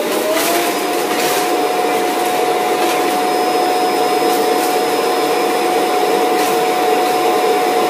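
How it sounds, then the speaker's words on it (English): Loud, steady whirring roar of a robot vacuum's self-emptying dock sucking dust from the bin, running continuously, with a constant high whine on top and no voices. "As a warning guys, the self-emptying bin is quite loud"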